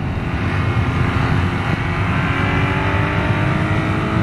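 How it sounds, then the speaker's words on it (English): A 2017 BMW R nineT Cafe Racer motorcycle exhaust drones steadily and loudly close by, a continuous engine note with wind rush while riding. "The exhaust note is awesome."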